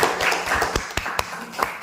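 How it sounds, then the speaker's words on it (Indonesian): A small classroom group claps for a fellow student, the sharp hand claps scattered and uneven, only a handful of people rather than a full crowd. "tepuk tangan dulu untuk temannya"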